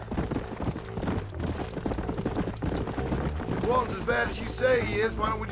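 Horse hooves clip-clop at a quick, steady pace in Red Dead Redemption, close and moderately loud, with ambient game sounds and a short whinny-like cry near the end.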